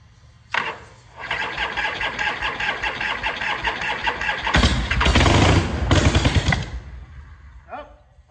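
A neglected Harley motorcycle, left in a barn for two years, cranks and catches, then runs in loud, uneven, popping bursts that swell and rev before dying away, heard up close.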